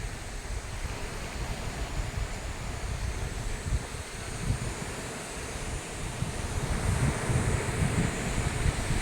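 Sea waves at a beachfront in Calauag, Quezon, a steady loud wash of surf mixed with heavy wind buffeting the microphone throughout, no voices.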